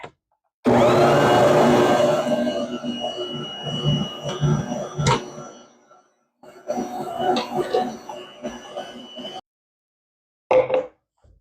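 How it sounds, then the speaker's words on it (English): A stand mixer running with fresh-milled flour tortilla dough, a loud motor whir at first that eases into uneven churning, stops, then resumes in bursts with brief pauses between. "I'm going to go ahead and get my mixer going"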